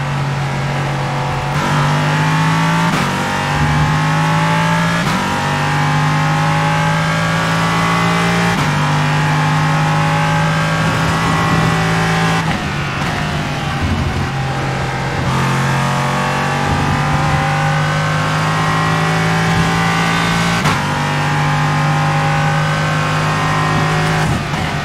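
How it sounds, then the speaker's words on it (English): Ligier LMP3 race car in the iRacing simulator lapping Donington, its engine screaming loudly and continuously through repeated gear shifts, the pitch climbing and then dropping at each change. "Enjoy the sound of the Ligier at Donington."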